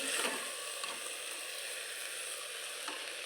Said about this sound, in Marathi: आपल्याला हे तांदूळ या फोडणीमध्ये मिक्स करून घ्यायचे आहेत